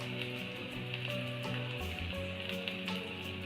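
Fish fries in oil on a tawa with a steady soft crackling sizzle, close and even throughout, with a low hum underneath.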